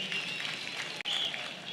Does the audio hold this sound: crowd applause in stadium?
yes